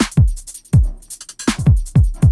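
A Korg Drumlogue drum machine plays a groove with swing set around 25%, loud punchy kicks and crisp hi-hats and snares in a slightly uneven, bouncing rhythm with no voices.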